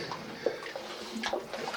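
Bubbles rising through water in a flooded tunnel of an old mine in the Sandon area while someone walks through it: close, continuous gurgling and sloshing with small popping bursts and no speech.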